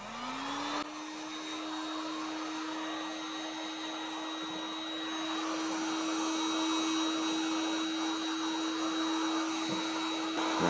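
Heat gun whirring steadily while warming smoked tint film on the rear reflector of a 2024 Acura Integra A-Spec, switching on with a rising whine and then holding a constant fan-and-blower drone close by.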